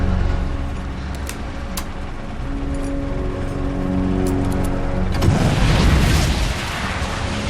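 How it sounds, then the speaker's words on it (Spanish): Rockets fire from a military aircraft in the war film Devotion, a loud whooshing burst breaking out over steady engine drone and continuing as a broad roaring rush for a couple of seconds. "Soltar cohetes."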